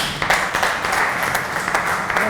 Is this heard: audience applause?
yes